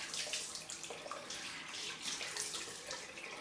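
Tap water running steadily to rinse a shaving razor, a close, continuous splashing rush with no talk.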